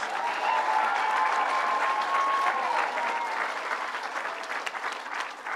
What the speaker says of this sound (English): Regent Joe Finn, let's give him a big round of applause.